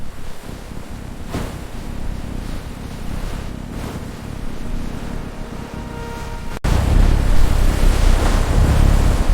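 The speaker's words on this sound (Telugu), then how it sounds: "ఏంటిరా ఈ గాలి?" Steady roaring wind and rushing surf, growing suddenly louder and heavier partway through, with no voices.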